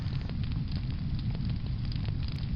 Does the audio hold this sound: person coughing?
no